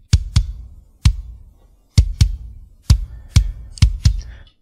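A kick drum layered with an added kick sample thumps in an irregular pattern of about a dozen punchy hits, some in quick pairs, each with a short decaying tail, played alone within a metal mix.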